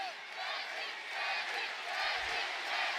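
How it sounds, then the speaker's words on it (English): Boxing arena crowd at a Deji versus Jake Paul match chanting a fighter's name, a dense, sustained roar of many voices rising and falling, loud and continuous. "The crowd chant Deji."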